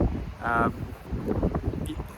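Gusty wind buffets the microphone with low rumbling bursts, with a brief tonal sound partway through.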